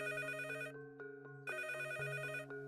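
A telephone rings in repeated electronic trill bursts, with a short pause between rings, clear and close.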